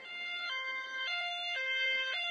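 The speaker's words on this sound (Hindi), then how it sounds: "एम्बुलेंस लाडो को लेकर अस्पताल की तरफ निकल पड़ती है।" A cartoon ambulance siren wails in a steady two-tone hi-lo pattern, alternating pitch roughly every half second, loud and close with no talking over it.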